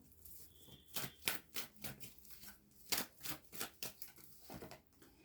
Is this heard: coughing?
no